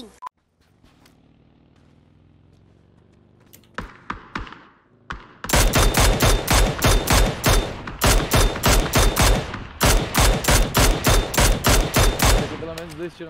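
Rapid bursts of video game gunfire on the Miramar map, loud and close, firing in quick repeated volleys at a buggy's wheels after a quieter stretch with a few isolated shots.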